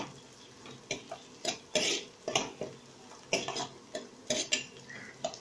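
Mushroom soup ingredients sautéing in a pan, stirred with a spoon: a steady run of short scraping strokes and light metallic taps against the pan, fairly close, with no voices.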